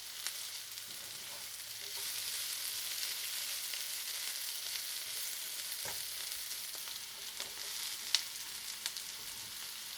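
Vegetables, onions and bell peppers among them, fry and sauté in a pan for chicken fajitas, giving a steady soft sizzle with a few small clinks and stirring sounds and no talk.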